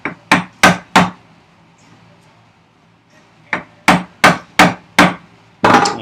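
Large chisel struck hard with a mallet while chopping wood for workbench vise chops, sharp loud blows: three in quick succession, a quiet pause, then five more evenly spaced, close and unaccompanied.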